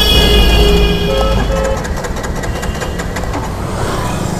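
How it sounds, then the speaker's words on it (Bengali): A Hero Xtreme 125R motorcycle's self-starter cranks over and over without the engine catching, a loud, close, rhythmic churning that follows a brief steady hum. "সেলফ দেওয়া যাক, দেখা যাক স্টার্ট হয় কিনা।"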